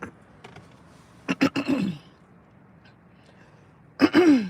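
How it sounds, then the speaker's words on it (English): A few short, sharp coughs or throat clears come in two brief bursts, separated by a quiet pause, close to the microphone. "oh, she's coughing, we got her"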